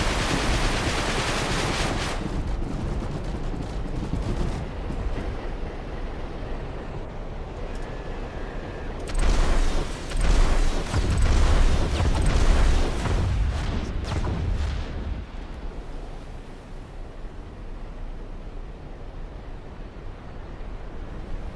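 Barrage artillery fire in the video game Silica, a dense roar of booming blasts and rumbling noise that swells in the middle and then thins out, loud and sustained.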